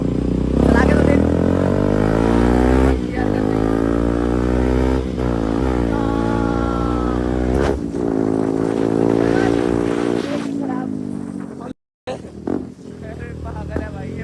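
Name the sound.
motorcycle being ridden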